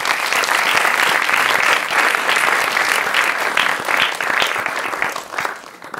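An audience at a forum event in a community venue applauds, a dense, loud burst of many hands clapping that holds steady and fades slightly at the end.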